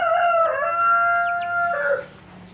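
A rooster crows loudly and close, one long drawn-out cock-a-doodle-doo with a rasping tone, fading into faint background noise.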